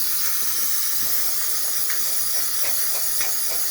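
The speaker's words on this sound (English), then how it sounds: "Good steam coming out of the machine." The steam wand of a Saeco Incanto Classic S-class espresso machine, fitted with a new water pump, hisses loudly and continuously up close, a broad rushing noise with faint gurgling spurts running underneath.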